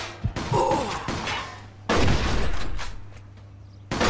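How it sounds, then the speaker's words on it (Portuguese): Bursts of rapid gunfire from the video game Mafia II, loud and close, with sharp cracks and heavy sustained volleys separated by brief lulls. "estás a levar um bocado de tiro, Zé!"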